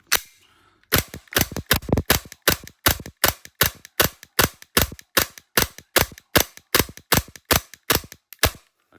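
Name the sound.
Tokyo Marui G19 airsoft pistol firing repeatedly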